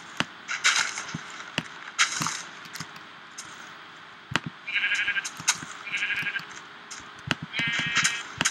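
Sheep bleat in the video game Minecraft, several short wavering calls in a row, with sharp clicking and chopping game sounds between them, loud and close with no talk.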